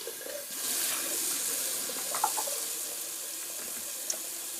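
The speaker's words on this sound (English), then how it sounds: "while I got the sink running" Water streams steadily from a kitchen sink tap, a continuous close hiss and splash filling the whole stretch, with a few small clinks partway through.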